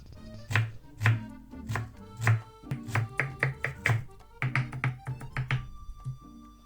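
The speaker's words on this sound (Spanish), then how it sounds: "Vamos a picar muy chiquita, brunoise, bien chiquita la cebolla" A knife chops onion into a fine brunoise on a board, a run of crisp, close knocks, first spaced and deliberate, then quickening into rapid bursts before easing off.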